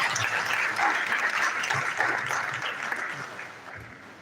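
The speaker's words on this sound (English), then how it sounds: "Please, once again, a round of applause for our guest lecturer." Audience applause for a guest lecturer at a university alumni association general meeting, a dense steady clapping that fills the hall for about four seconds and tapers slightly toward the end.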